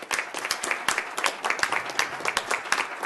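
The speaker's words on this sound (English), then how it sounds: "So let's give Diane Williams a huge round of applause." Applause from the audience at a Rancho Cucamonga city council meeting, brisk irregular clapping from a modest crowd, loud and close, with no talking over it.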